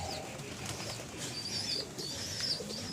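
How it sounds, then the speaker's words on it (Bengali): Soft cooing from pigeons in the morning outdoors, with a brief flutter of wings and faint chirps against a quiet, rural open-air background. "আকাশে পাখি পায়রা উড়ছে"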